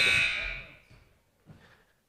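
A loud electronic buzzer sounds in a high school JV boys basketball gym at the end of the first half, a bright sustained blare fading over about a second, followed by faint crowd noise.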